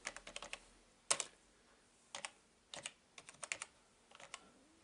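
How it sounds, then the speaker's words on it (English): Keys clack on a Commodore 386SX-LT laptop keyboard in quiet, irregular bursts of taps and single presses with short pauses between them, no speech. "The keyboard works fine actually."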